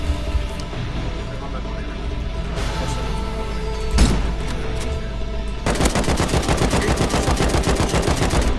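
Gunfire in the survival game Rust, wipe-day server fight: steady rapid automatic bursts throughout, with a sharp loud shot near the middle and denser, harder fire toward the end, while players talk over it.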